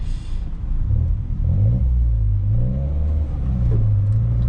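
A Peugeot 208 GTI 200 HP engine with an Akrapovic exhaust rumbles steadily nearby, its pitch rising and falling as it revs, loud and continuous with no voices.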